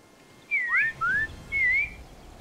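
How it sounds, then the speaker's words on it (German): A two-part whistle signal in the video game Sniper Elite 5, clear and melodic: a rising-falling pair of tones, a short pause, then a single sliding note over faint background hiss. "So, jetzt haben wir beide gepfiffen."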